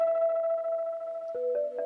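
Washed-out vibraphone-like keyboard tone run through burst echo feedback on a Roland SP-404SX sampler, a sustained ringing chord that steps down and stutters with repeated echo bursts as it rolls off near the end.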